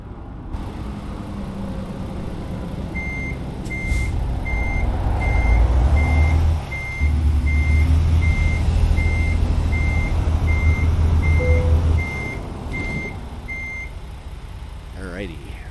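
Truck reversing beeps repeat at a steady rhythm while parking in American Truck Simulator, over a loud low diesel rumble, with a brief air hiss near the end.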